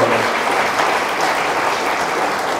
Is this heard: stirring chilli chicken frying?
no